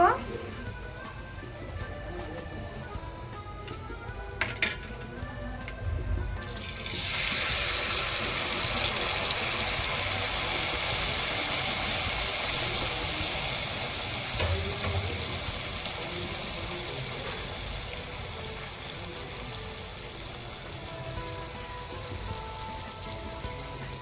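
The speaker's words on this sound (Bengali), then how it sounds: "লাল লাল করে ভেজে নেব" Suji pakan pitha frying in hot oil, a steady sizzle that rises sharply after a few seconds and continues as a close, even hiss under a voice talking.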